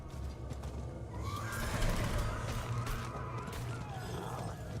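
A horse in the Diablo 4 video game gives a whinny over rough mechanical clatter and creaking, moderately quiet, with no speech.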